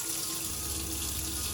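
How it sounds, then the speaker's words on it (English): Tap in an Auto Trail Apache 634 motorhome running steadily with the onboard water pump switched on, a constant close hiss of flowing water with a low pump hum beneath, no talking. "Now have a water pump on. That means that the taps will all be functioning now."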